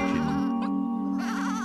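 A single sheep bleats loudly and close, a wavering nasal cry held for over a second.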